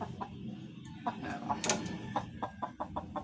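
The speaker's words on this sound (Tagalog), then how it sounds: "ang aking mga palahing manok" Several short clucks from breeding chickens in a barnyard, scattered and irregular, over a steady background murmur of outdoor noise.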